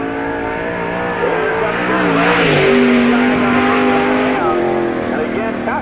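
Stock race car engine at Tri City Speedway during 1997 NASCAR qualifying, a loud, sustained roar that rises and falls in pitch as the car laps the oval, with an announcer talking over it.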